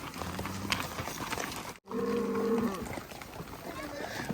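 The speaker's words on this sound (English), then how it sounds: "These cattle are kind of off on this slope." Cattle grazing on a slope beside a road give one clear, drawn-out moo of about a second, standing out against a background of outdoor noise, and someone talks nearby.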